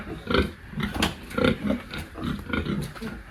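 Pigs on a farm pen grunting and snorting in a steady run of short, close bursts, with a faint voice mixed in among the animal noises.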